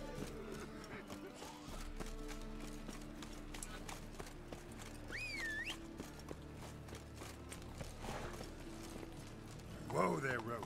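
Roach the horse's hooves clopping in the video game The Witcher 3, a steady rhythmic gait at moderate distance under a soft music bed, with voices talking over it near the end.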